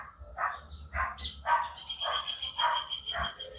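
Dogs barking repeatedly in a steady series of about seven barks at moderate distance outdoors, with brief bird chirps in between and a faint steady background hum.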